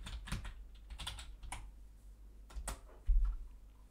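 Quick bursts of keystrokes tap on a computer keyboard as a short layer name is entered, close and fairly quiet, with a soft thump near the end.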